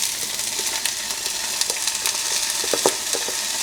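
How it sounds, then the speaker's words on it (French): Rinsed, drained rice fries in melted coconut oil in a saucepan, a steady dense sizzle with scattered crackles and stirring scrapes, close and alone without talking. "Dans ma casserole, je vais faire fondre à nouveau de l'huile de coco. C'est le moment d'ajouter mon riz rincé et égoutté."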